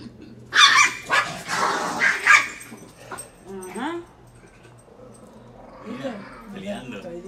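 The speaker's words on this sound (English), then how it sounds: "Why are you barking?" A dog barks several times in quick, sharp bursts, then whimpers and yips more softly while a person talks nearby.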